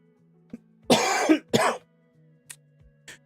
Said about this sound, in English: I still have my stupid ass cough